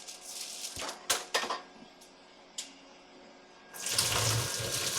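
Water being poured off boiled green chilies into a sink, a steady rushing stream near the end after a few clinks and knocks of a pot, close and moderately loud.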